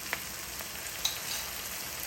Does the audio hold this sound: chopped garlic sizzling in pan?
yes